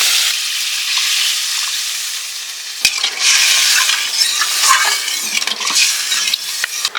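Potatoes cooking in a pan just after water is added for a masala paneer dish, giving a loud, steady broadband sizzle and hiss with a sharper burst partway through, close up with no talking.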